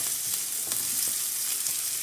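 Medium-sized onions fry in a pan with a steady, close hiss of sizzling and faint crackles, with soft stirring scrapes now and then and no voices.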